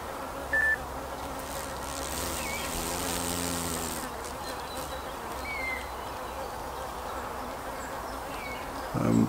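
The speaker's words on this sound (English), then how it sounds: "with the Asian hornet, which is predominantly black" Asian hornet buzzing near beehives, a steady insect drone with rising and falling tone under faint outdoor background and a few short beeps.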